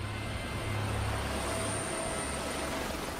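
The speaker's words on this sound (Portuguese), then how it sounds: "Os homens desembarcam às pressas do helicóptero." A helicopter during a police tactical training exercise with a convoy and barricade drones steadily with a loud, continuous rotor and engine roar, no talk over it.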